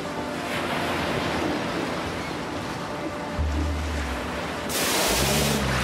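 Ocean waves wash and surge steadily as a folk-story sound effect, broad and continuous with a low rumble, swelling louder near the end; wind blows across the microphone and no one speaks.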